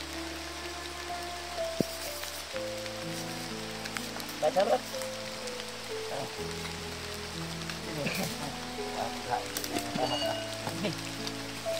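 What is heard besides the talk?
heavy rain falling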